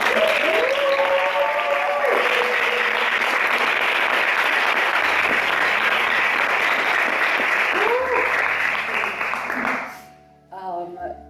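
Loud, sustained applause from an audience at a Transgender Day of Visibility gathering in Erie, Pennsylvania, honoring the speakers. It fills about ten seconds with a few whoops and voices over it, then fades abruptly into quieter crowd murmur.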